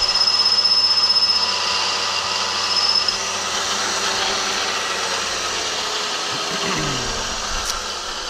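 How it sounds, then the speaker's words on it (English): A shop vacuum sucks up metal chips in a workshop where desk lamps are made from car parts, giving a loud, steady, close whooshing roar that holds evenly throughout, with no talk. "And let me vacuum this up instead of throwing it everywhere."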